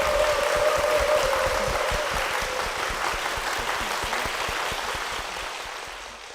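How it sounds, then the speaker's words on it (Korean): Steady church congregation applause, dense and sustained, fading slowly toward the end. "박수 부탁드립니다."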